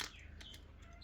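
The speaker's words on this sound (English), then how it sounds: "You can hear my birds in the background." Pet birds chirp faintly indoors, a few short high tweets scattered over a steady low hum, with no talking.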